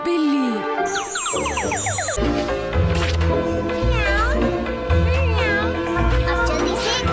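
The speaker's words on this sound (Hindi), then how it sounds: "बिल्ली बिल्ली।" A cartoon cat in a Hindi-dubbed Doraemon episode meows loudly and repeatedly in long, wavering cries over a jingling musical score, with voices talking alongside.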